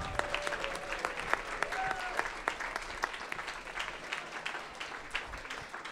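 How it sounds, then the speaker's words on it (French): Applause from an audience at an evening event at a Sherbrooke quantum institute, a dense steady patter of many hands clapping at moderate distance, sustained throughout. "Et puis, un dernier applaudissement pour le Boc et Bière, quand même, là."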